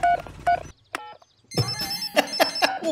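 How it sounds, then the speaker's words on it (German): A cartoon telephone in Peppa Pig is dialed, short bright beeping tones in quick bursts separated by brief gaps, clear and close. "Ich rufe Papa Opa F. mit seinem Abschleppwagen"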